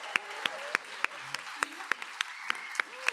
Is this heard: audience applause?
yes